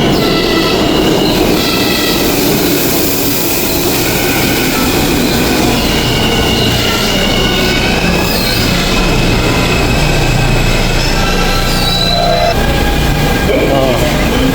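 A subway train rides through New York, a loud, steady roar of wheels and rail rumble with squealing and clattering throughout, close and continuous.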